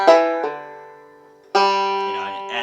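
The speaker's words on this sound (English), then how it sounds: "I'm going to do a pull off on the 4th string." Banjo lick ending with a pull-off on the fourth string, two plucked attacks ringing out and decaying, then a brighter group of notes sustaining to the end, played solo and fairly close.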